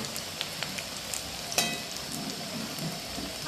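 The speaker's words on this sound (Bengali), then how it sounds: "এই দেখো কুমড়ো ফুলের বড়া বানাচ্ছি" Pumpkin flower fritters frying in oil on a small stove, a steady close sizzle with scattered pops and crackles, one sharper spatter midway, no voices.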